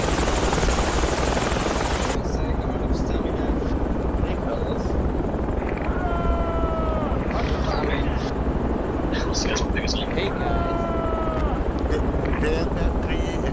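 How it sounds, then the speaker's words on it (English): A helicopter in the tactical shooter game Project Reality thrums steadily for the whole stretch, loud and continuous, with scattered game effects and radio chatter over the top and short tonal chirps appearing twice. "Enemy helicopter over city center."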